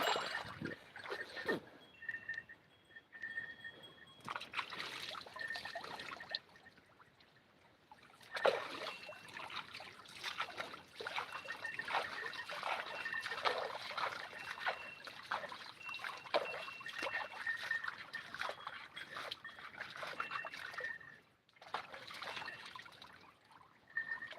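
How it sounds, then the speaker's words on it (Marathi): Water poured over a cow in a field to wash off dung: close splashing and trickling in long runs with a couple of brief pauses, and no talking. "अधिक पाणी टाकून घ्यायचं अंगावर म्हणजे शेण निघत लगेच"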